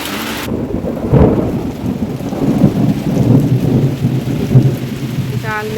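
Heavy rainstorm with deep thunder rumbling through steady downpour, a loud crack-like peak near the start and rolling swells continuing throughout; a brief whistling tone near the end.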